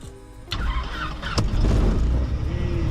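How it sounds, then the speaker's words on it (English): A small training airplane engine is started with the red starter button: a brief cranking whir, then the engine catches and settles into a loud, close, rumbling run with a steady low drone. "slowly push it in and push the red starter button at the same time"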